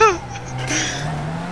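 A car in the GTA video game reverses down an alley, with an engine drone and a brief tire squeal near the start, loud and close, with no talking.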